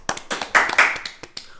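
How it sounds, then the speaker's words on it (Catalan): Brief burst of hand clapping from a small festive gathering honouring the town pool attendant in Agres, with sharp claps mixed with voices, rising and then tapering over about a second and a half. "Anem a aplaudir."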